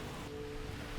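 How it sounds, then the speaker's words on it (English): Steady rain falls in Fiji, heard as an even, broadband hiss of drops on surfaces that holds level and fairly close for one second, with no voices. "It's raining again."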